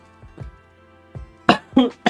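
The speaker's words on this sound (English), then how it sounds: "that cough came out of nowhere." A single person coughs during a livestream, a few sharp close bursts after some quieter throat sounds and breaths.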